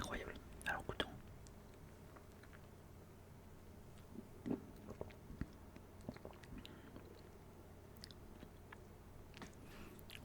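Close-up chewing of an Inshape protein bar: soft, moist bites and squishy mastication in quiet bursts, very near and faint, with whispering around it.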